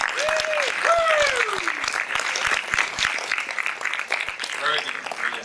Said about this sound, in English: Big round of applause for Steve.